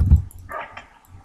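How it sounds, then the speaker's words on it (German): Dogs bark in a zombie round of a video game, one short bark cluster rising out of a low rumble, brief and moderately loud in the game mix. "Ich höre da Hunde."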